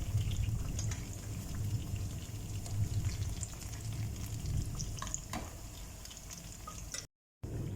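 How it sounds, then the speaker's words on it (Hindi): Mangochian (lentil fritters) frying in hot oil while they cook to golden, a steady close crackling sizzle throughout with a brief drop near the end and no talking. "तो अब हम इनकी करेंगे साइड चेंज और इन्हें गोल्डन होने तक हम इन्हें पकाएंगे अच्छी तरह से"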